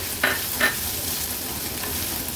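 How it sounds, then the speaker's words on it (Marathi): Chopped onions hit hot oil in a kadai for a tempering, hissing in a steady close sizzle, with two quick stirring scrapes near the start and no voices. "तेल छान गरम झालं की आपण फोडणीला हा कांदा ऍड करूया"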